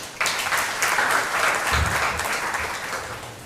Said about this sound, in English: if you give them, as they leave, a big round of applause